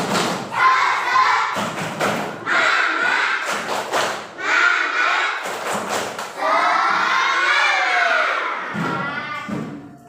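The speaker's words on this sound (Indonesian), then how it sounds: "Tepuk semangat dulu ya." Schoolchildren in a primary classroom perform the tepuk semangat spirit clap, with bursts of rhythmic claps and thuds alternating with loud chanted shouts from the group, close and lively.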